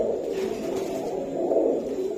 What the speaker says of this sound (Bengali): এই যে দেখছেন দর্শক কবুতর গুলা